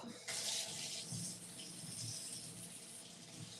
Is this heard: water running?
yes